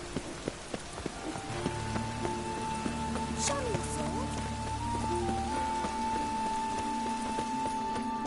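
Steady rain falls in The Witcher 3 game world, a soft continuous hiss under sparse horse hoof clops and game music tones, while a voice speaks briefly.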